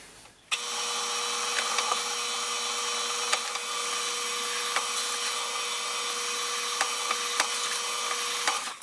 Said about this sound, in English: we'll start off by drilling a 1/8 inch hole that will allow our screw to pass through, and then we'll follow it up with a countersink bit